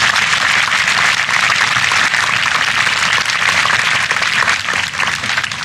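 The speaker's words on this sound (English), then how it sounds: "Let's give Governor Blanco a great round of applause." An audience at a Louisiana gubernatorial inauguration applauds Governor Blanco with loud, dense, sustained clapping that fills the whole stretch without a break.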